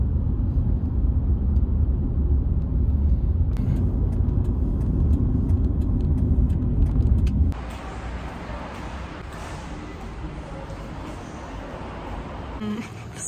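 A car drives along a road on a shopping trip in Korea, heard from inside as a steady low engine and road rumble that drops to a quieter hum partway through.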